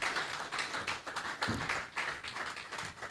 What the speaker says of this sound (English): Let's clap for the Commissioner, please.